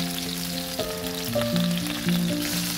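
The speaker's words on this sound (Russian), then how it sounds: "И жарим где-то еще 3 минутки с другой стороны до красивой золотистой корочки" Chicken breast on foil sizzles steadily in a hot pan over medium heat, with a constant frying hiss and a low background hum running throughout.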